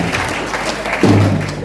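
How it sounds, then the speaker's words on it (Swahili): Brief burst of clapping from a church congregation applauding a pastor during a Moroto FM broadcast, fairly close and steady, with a dull thump partway through and no clear talking. "Tuhurire papasi makofi"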